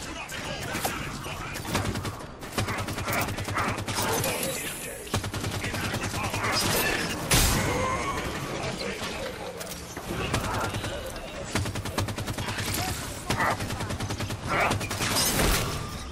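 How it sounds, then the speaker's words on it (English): Rifle fire in the video game Halo 5 Guardians, Warden Eternal mission on Xbox One, comes in repeated sharp bursts and volleys throughout, loud and close, amid dense battle noise with a voice talking over parts of it. "I like how this rifle sounds."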